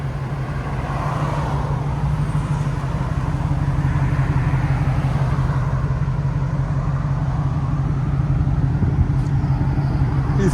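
A Whipple supercharged 725-horsepower Ford F-150 with a 5.0L V8 idles through a Flowmaster exhaust, a steady, smooth low rumble held at close range for the whole stretch.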